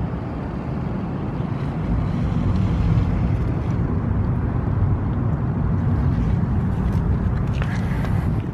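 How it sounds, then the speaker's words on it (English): An airplane flies overhead on its approach to land near San Diego, a steady, broad, low roar that swells slightly and holds at moderate loudness, mostly alone. "Airplane coming in."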